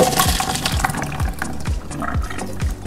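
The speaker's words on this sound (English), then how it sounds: "Once your vegetables have softened, you want to go ahead and drain it" Water from softened pot pie vegetables being drained off in a kitchen, a loud continuous splashing pour with gurgling, heard up close and alone.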